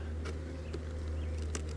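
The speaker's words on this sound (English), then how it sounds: "This frame is full of bees." Bees crowd a hive frame, giving a short burst of low steady buzzing with a few light clicks, no talk.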